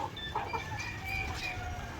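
Several white leghorn chickens in a battery cage cluck and chatter close by over a steady, busy background hum, with no one speaking.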